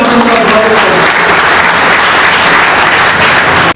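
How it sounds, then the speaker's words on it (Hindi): Audience applause at a Punjabi community gathering honouring a junction president, a dense, loud wash of many hands clapping steadily for several seconds before cutting off abruptly. "तालियों से"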